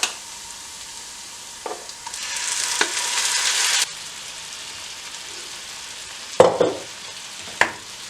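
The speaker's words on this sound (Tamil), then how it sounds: "இனி இதுக்குள்ளே நாங்கள் அந்த அரைச்ச சம்பலை போடுவோம்." Ground sambal is added to onions frying in a pan and bursts into a loud sizzle for a couple of seconds, then settles into quieter frying punctuated by sharp spoon clanks and stirring.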